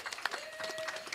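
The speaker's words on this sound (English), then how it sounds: "could I have a round of applause for John" Brief burst of applause for a guest at a ceremonial gathering, a short scattered patter of clapping with a faint whistle-like tone running through it.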